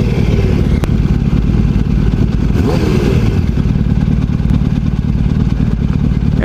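A motorcycle fitted with a Power Commander idles loudly and close, a steady thumping low engine note with mechanical clatter and a brief blip of revving partway through.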